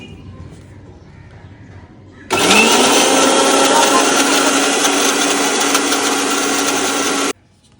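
A kitchen mixer grinder whirs loudly and steadily for about five seconds, grinding a wet paste of mustard seeds, poppy seeds, green chillies and water, starting abruptly and cutting off sharply.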